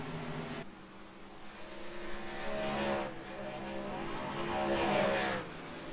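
Racing trucks in a PC racing game drone steadily with a continuous engine hum, the pitch shifting slightly as the revs rise and ease, fairly faint with no voices.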